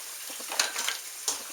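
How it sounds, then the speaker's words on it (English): Three eggs are beaten together in a bowl for lasagna, giving quick, irregular scraping and clicking strokes, close and moderately loud, with no talking. "we're going to beat 3 eggs together"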